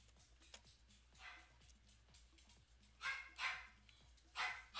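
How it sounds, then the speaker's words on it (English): A dog barks indoors, moderately distant and fairly faint: a few scattered yaps early on, then three louder barks in the second half, set against a low steady background hum. "My mom's dog is barking."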